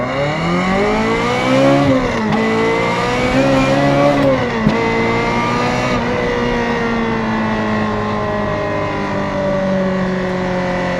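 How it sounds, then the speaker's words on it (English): A Ferrari F355 Challenge car revving hard to high RPMs on a road, its engine note loud and sustained with rising harmonics, a brief shift dip, then steady high-pitched running. "We'll stretch the legs out on this car, get it up in the high RPMs"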